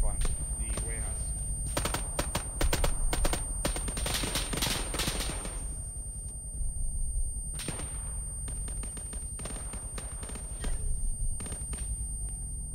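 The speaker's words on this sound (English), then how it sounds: "We'll give you covering fire." Rapid video game gunfire laying down covering fire in an urban warehouse area, dense bursts of automatic shots in clustered volleys with short gaps, loud and close, with voices talking over parts of it.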